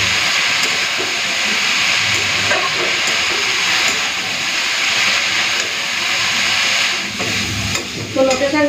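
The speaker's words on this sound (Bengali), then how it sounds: "এই যে পুরো শুকনো শুকনো ঝরঝরে করে ভেজে নিলাম" Note greens with garlic, salt and a little sugar fry in a pan, giving a loud, continuous sizzling hiss with stirring scrapes throughout and a faint voice near the end.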